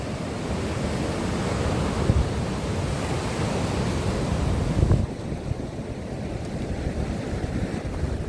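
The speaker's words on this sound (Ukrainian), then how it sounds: "Ну хвилі це клас." Sea waves roll and wash continuously onto the Black Sea beach at Langeron in Odesa on a windy January day, a loud broad surf roar with wind buffeting the microphone and no talk.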